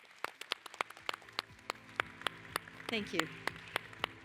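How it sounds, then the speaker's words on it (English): Scattered hand claps ring out at a conference plenary session as a panel finishes, sparse and fairly distinct rather than a full ovation, while a voice speaks over them. "a warm round of applause for our wonderful panel"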